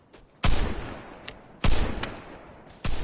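Three loud, heavy gunshots in the online survival video game Vigor, spaced roughly a second apart, each with a booming onset and a lingering reverberant tail.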